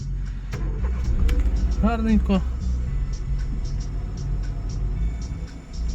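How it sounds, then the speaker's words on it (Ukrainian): A 2006 Mercedes A-class W169 with a 1.7 petrol engine and automatic gearbox idles with a quiet, steady low rumble close by, running evenly beneath someone talking briefly. "Ось так працює двигун."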